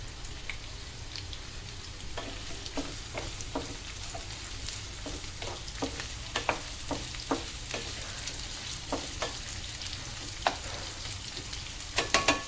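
Onions frying in oil for a South Indian fish curry give a steady close sizzle, with scattered sharp crackles and pops throughout and no talk.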